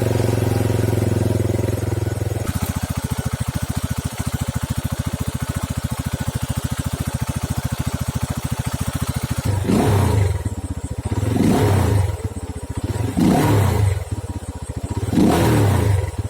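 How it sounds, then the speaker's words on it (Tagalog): Rusi Flash motorcycle engine running right after a DIY valve clearance adjustment: a steady close idle, then several loud revs rising and falling in a regular pattern with no voices. "pakinggan nyo yung andal ng ating motor after sa valve clearance"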